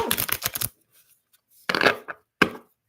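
Rapid riffling bursts of cards being shuffled, a long flurry followed after a pause by two shorter riffles, close and fairly loud.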